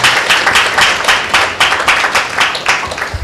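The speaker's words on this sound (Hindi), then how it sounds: "हम उनका जोरदार तालियों के साथ परमेश्वर की वेदी के ऊपर स्वागत करते हैं" Enthusiastic clapping from a church congregation at a Tuesday meeting welcoming the pastor to the altar, loud, dense and steady throughout with no voices over it.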